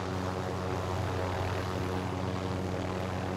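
A helicopter drones nearby with a steady, even engine and rotor hum that stays at a constant moderate level for the whole moment, no voices heard.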